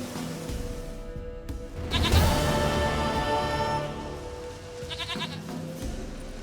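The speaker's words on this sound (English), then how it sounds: "Goat of mine, dearest, sweetest goat." A goat bleats in the video game The Witcher 3, giving a loud wavering bleat around the middle and a shorter second call near the end over low ambient game sound.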